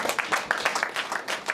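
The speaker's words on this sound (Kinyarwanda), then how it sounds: "Wakumera amashyi ku bw'icyo" Several people clap at a wedding celebration, a short burst of applause with quick, uneven claps close by.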